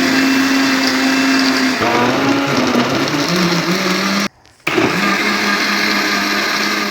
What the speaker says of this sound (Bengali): ফাইনালি ব্যালেন্ডার করবো।